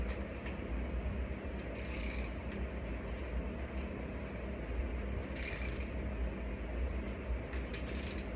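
Bolts on a VW 2.0T FSI engine are tightened with a ratchet wrench during piston installation, giving a few brief clicking bursts over a steady hum of background noise.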